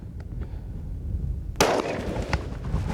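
Hunting rifle shot on a safari in Namibia: a single loud, sharp crack bursts out midway and decays into outdoor rumble, preceded by quiet bush ambience and faint clicks.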